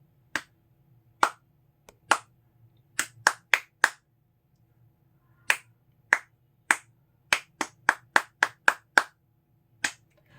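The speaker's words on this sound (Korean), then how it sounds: "제가 말없이 박수만 한번 쳐보고 마치도록 하겠습니다" Solo hand claps, sharp and close, beat out alone in a triplet rhythm as a rhythm-training demonstration, grouped in short bursts of two to six claps with brief pauses between.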